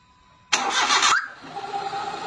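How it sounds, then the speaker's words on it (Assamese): A Maruti Alto 800 car engine cranks briefly and catches on the first try from cold, then settles into a steady, close idle. "ওয়ান টাচত ইঞ্জিন ষ্টাৰ্ট হৈ গৈছে"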